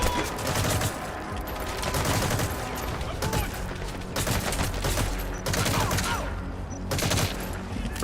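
Sustained bursts of gunfire fill a Metal Gear Solid V: The Phantom Pain battle, loud and dense throughout with rapid automatic shots and heavier blasts, a voice faintly audible beneath.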